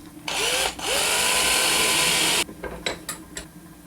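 A power drill bores into the face of a handmade crankbait lure. A short burst is followed by a longer steady whine, close and loud, then a few brief clicks and taps.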